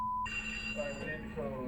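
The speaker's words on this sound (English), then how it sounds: "That phone was just fucking ringing!" A ringing tone cuts in sharply at the start and carries on over a low hum, with a persistent bright pitch; the source is an old landline wall phone, plugged in, ringing in an apparently haunted setting.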